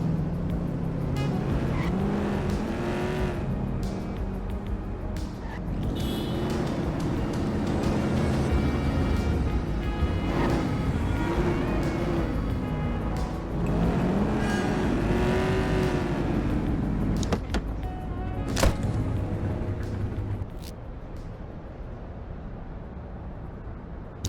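A car in the video game The Precinct drives on and on, its engine rising and falling in repeated revving swells with occasional tire squeals, loud and close throughout, then a sharp knock before it eases off.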